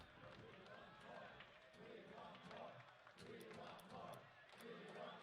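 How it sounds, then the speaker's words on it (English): Stadium crowd noise from the video game Rocket League, a continuous rumbling roar with rhythmic chanting swells and faint claps, steady and moderately distant, with someone talking over it. "Cheering our name."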